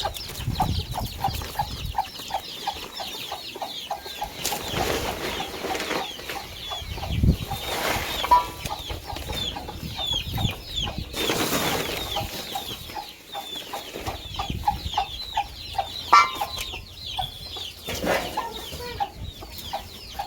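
A chicken clucks in short repeated bursts, close by, with soft rustling and outdoor background sounds between the clucks.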